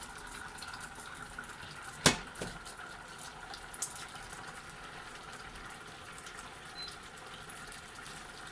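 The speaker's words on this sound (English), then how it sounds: "This rice is cooking so fast." A pot of rice boils on the stove with a faint, steady watery hiss and soft bubbling, broken by a couple of sharp clicks near the start.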